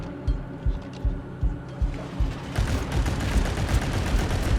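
A gunman fires in the video game REANIMAL, a run of regular, thudding low shots about every half second, then a denser rumbling clatter of game sound.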